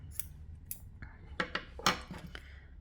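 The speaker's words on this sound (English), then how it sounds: "I need to cut the yarn again" Scissors cut crochet yarn during work on a granny square, giving several crisp, close snips spaced irregularly with no talking.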